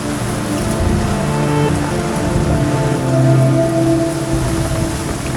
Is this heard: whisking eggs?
no